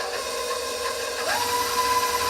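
A KitchenAid stand mixer beats cookie dough with a steady motor whine, and the pitch rises partway through.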